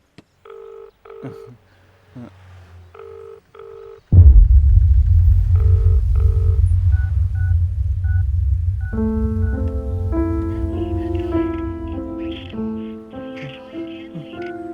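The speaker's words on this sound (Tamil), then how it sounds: "சரி, ஒரு வாட்டி கால் பண்ணி பார்ப்போம்." Phone keypad tones as a call is dialed in a Tamil film scene: a short run of clear, evenly spaced beeps, then a loud low rumble and layered musical tones take over.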